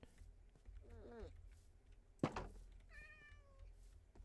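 A cat meows in a video game, a short run of soft, clear meows near the start and again near the end, with a dull thunk in between over a quiet background.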